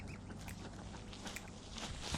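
Month-old baby ducks and baby geese quacking and peeping together as a soft, continuous chorus of small calls at a farm, somewhat distant and fairly quiet.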